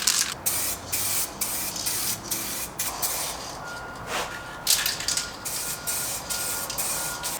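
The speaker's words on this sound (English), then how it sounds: "Got the 2nd coat of clear coat on here." Rapid bursts of an aerosol spray can laying clear coat onto grille pieces from a 2022 Toyota Tundra, short hissing blasts repeating in quick, uneven rhythm, close and fairly loud.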